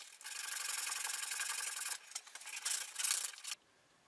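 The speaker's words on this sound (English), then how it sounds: "using sandpaper, I take a small amount of material off the inner of the lid" Sandpaper rubs against the inner rim of a wooden box lid, a close, steady rasping stroke followed by several shorter scrubbing passes before it stops.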